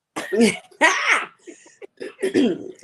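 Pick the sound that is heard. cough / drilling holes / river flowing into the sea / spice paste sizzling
cough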